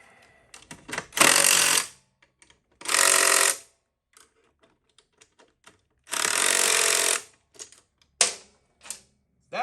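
A power tool whirs in four loud, steady bursts of one to two seconds each while bolting a plate to a bike frame, separated by quiet gaps filled with small clicks and handling noises.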